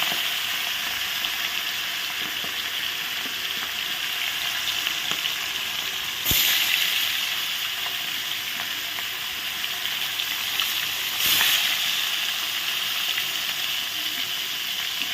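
Catla fish pieces fry in hot oil with a continuous loud hiss and fine bubbling, and two sudden surges of spattering sizzle as more pieces go in.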